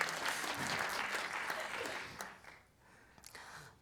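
A burst of clapping from a small crowd, lively at first, then thinning out and fading to scattered claps near the end.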